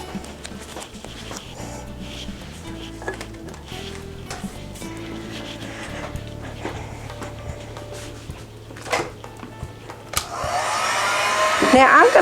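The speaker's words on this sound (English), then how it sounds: "Now I'm going to go ahead and dry it with the heat gun a little bit." A heat gun blows steadily while drying a craft piece, a continuous airy whoosh with small clicks and handling noises, growing louder and harsher near the end.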